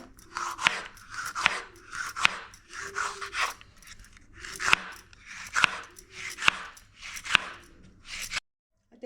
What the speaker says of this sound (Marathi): मिरची सुद्धा आपल्याला असं एकदम पातळ कापून घ्यायचं आहे